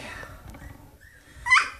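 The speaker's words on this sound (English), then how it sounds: "There's nothing cuter than puppy growls." Four-week-old puppies playing and tumbling around together, with small growls, yips and scuffling, ending in a brief louder squeal near the end; close and fairly quiet, with no talk.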